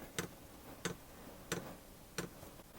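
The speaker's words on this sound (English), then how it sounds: "noise is my fuel pump trying to pump fuel up." Fuel pump of a 12V diesel heater ticking as it primes fuel during a garage install, four sharp evenly spaced clicks about two-thirds of a second apart over a faint background hum.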